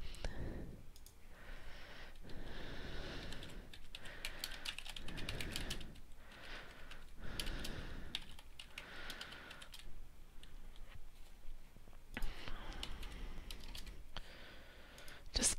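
Quiet typing on a computer keyboard, clusters of soft key clicks in uneven bursts with short pauses between, close and faint.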